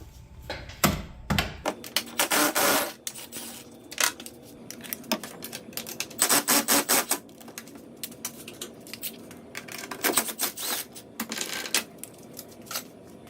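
Bolts on top of a boat outboard motor being worked loose, heard as sharp metallic clicks, clanks and rattling taps in irregular clusters, close by with quiet pauses between them.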